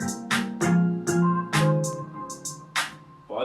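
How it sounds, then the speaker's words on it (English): Crisp hi-hat ticks repeat in a quick pattern through a hip-hop instrumental. They sit over pitched synth notes and a low bass line. The mix is close and fairly loud, with no talking. "and the hi-hats."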